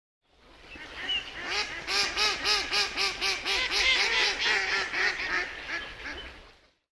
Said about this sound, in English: Mallard duck.